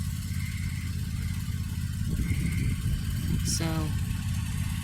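A tractor engine left idling on a freshly dug farm plot, a steady low rumble throughout with a person talking over it.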